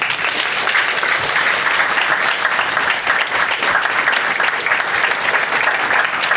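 Sustained, dense audience applause fills a public meeting hall, loud and even throughout with no pause or talk over it.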